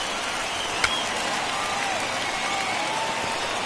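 A large stadium crowd of about 38,000 in the MLB The Show 21 baseball video game roars and cheers at a strikeout, a dense, steady wash of noise with no clear pauses.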